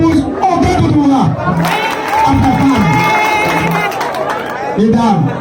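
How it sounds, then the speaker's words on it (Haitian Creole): A crowd cheers and claps for André Doudoura, with shouting and chatter rising and falling across the span while voices call out over the noise. "Un applaudissement pour André Doudoura."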